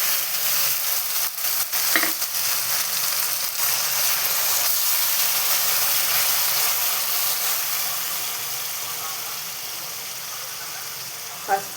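Ground spice paste frying in a pan, a dense continuous sizzle and hiss with occasional stirring scrapes, loud and close, fading slightly toward the end before a brief clink.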